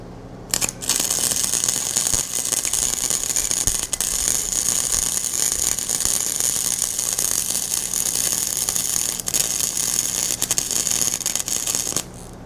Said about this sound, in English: I'd say the welder works better now.